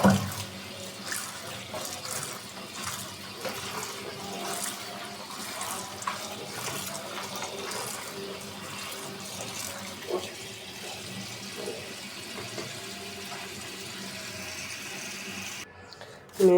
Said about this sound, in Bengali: এখন শাকটা ধুয়ে নিতেছি, ধুয়ে ধরাতে রাখবো।